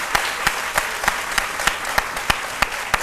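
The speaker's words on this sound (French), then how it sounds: "il mérite vos applaudissements" Studio audience applause on a television talk show, a steady wash of many hands clapping with sharper individual claps popping out at a regular rhythm, close and fairly loud, with no voices.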